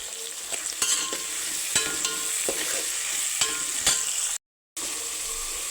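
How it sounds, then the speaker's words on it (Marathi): Tomatoes and green chillies sizzling in a pan for mutton pulao, a steady close frying hiss with repeated stirring scrapes, briefly cut to silence near the end. "त्याच्यामध्ये आता टोमॅटो आणि हिरवी मिरची"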